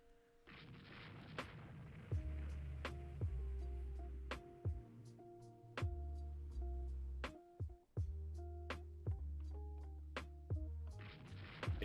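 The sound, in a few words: naval gunfire in video game Rule the Waves 2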